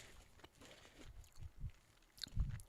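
Close, quiet chewing of crunchy MrBeast Burger food, several soft irregular crunching bites that grow louder toward the end, with no talking.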